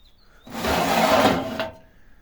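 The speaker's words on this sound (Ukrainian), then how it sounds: "і для попелу шухлядка. Видвинув, висипав і забув." The stainless-steel ash drawer beneath the firebox of an 80-litre steam generator slides out with a short, scraping metallic rasp lasting about a second.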